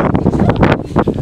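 Wind buffets the microphone in heavy, rumbling gusts on Mangart mountain in Slovenia, a brief loud burst of blustery noise.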